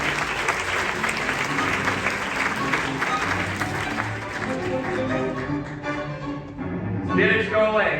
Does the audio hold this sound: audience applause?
yes